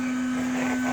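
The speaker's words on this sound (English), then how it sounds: "vacuum cleaner that is 12 volt. Plug it in here" A 12-volt vacuum cleaner running steadily, a constant close motor hum with a strong steady tone and airy whine, unchanging throughout.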